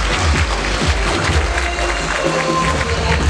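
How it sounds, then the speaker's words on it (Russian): Audience at a boxing show applauding the boxers, a loud, dense wash of clapping and crowd noise that runs steadily from start to finish with no pauses. "Поддержите аплодисменты всех спортсменов."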